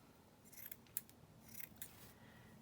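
Scissors snip through pink lace at a desk, a few faint, quiet cuts with soft rustling between them.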